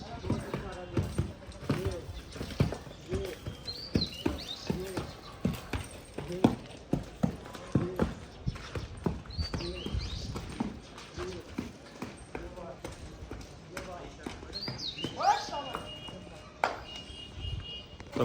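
A horse pulling a heavy load clip-clops steadily, the hoof strikes rhythmic and fairly close, with occasional faint calls and someone talking over the walking.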